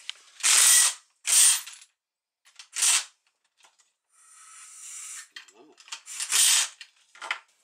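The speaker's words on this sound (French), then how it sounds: "j'ai essayé de débloquer mon écrou avec la péteuse" An impact wrench tries to loosen a seized nut on a car's shock absorber job, firing in several short, sharp rattling bursts separated by pauses.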